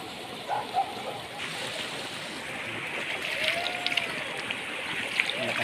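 Strong stream water from a river in a natural setting, a steady broad rushing flow with small splashes, continuous and fairly close, with no speech over it.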